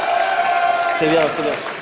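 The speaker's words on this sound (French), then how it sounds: "on applaudit les jeunes" A crowd at Japan Expo 2010 applauds young people, with cheering mixed in, while a voice talks over the clapping for a couple of seconds.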